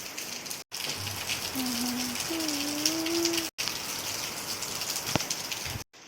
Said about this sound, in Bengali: আর বাইরে আজকে মুষলধারা বৃষ্টি পড়ছে